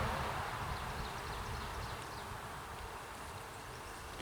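Honey bees hum faintly and steadily from an open hive box during an inspection, a soft continuous buzz with no voices.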